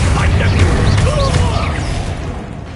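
A Bombarda spell blast in Hogwarts Legacy booms loudly at the start and decays over a couple of seconds amid scattered magical effects and whooshes.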